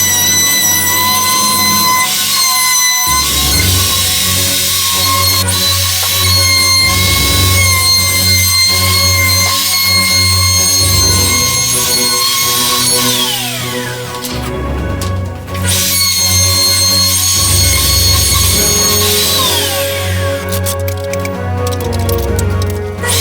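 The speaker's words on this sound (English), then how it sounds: "I'll just unscrew the board, hold it down, and router the edges." A wood router spins up loud and steady, profiling the edges of a bar board with a continuous high whine that dips and resumes as the cut progresses, standing alone without talk.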